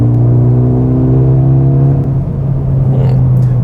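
Mercedes-AMG A35 four-cylinder engine holding a steady loud drone while cruising on a scenic road, a continuous even hum with no voices.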